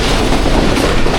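The Jaffar Express passenger train rushes through a railway station at full speed on a rainy day, a loud, dense roar of wheels and rattling carriages heard close by.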